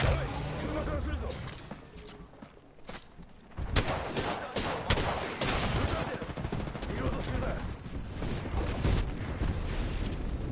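Dense, continuous gunfire fills a battle royale video game firefight, with rapid bursts and heavy shots layered loud and close, alongside spoken voices.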